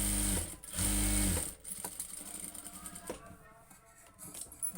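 A sewing machine stitching a blouse: two loud, close, steady whirring runs of the needle, then quieter mechanical clicks and handling noises as the fabric is adjusted.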